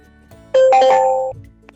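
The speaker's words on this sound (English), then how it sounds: "did you hear the dingling? I heard the dingling." A CORE kit hub gives a single bright electronic chime as a sensor accessory connects, a clear close two-tone ding lasting under a second, then quiet.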